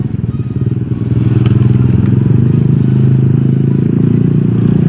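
A motorcycle engine idles with a steady, low burbling exhaust, rising a little in loudness after a second and holding close and even.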